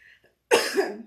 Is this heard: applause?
no